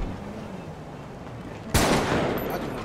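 A single sharp gunshot rings out in a video game, sudden and loud over a low, steady background. Its echo tails off over the next second.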